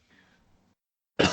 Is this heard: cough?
yes